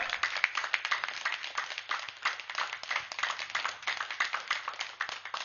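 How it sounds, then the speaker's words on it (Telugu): An audience applauds Ramu Master at a spiritual talk, with dense, continuous clapping from many hands, moderately distant and fairly quiet, with no voices over it. "గట్టిగా చప్పట్లు కొడదాం రాము మాస్టర్కి, గట్టిగా గట్టిగా."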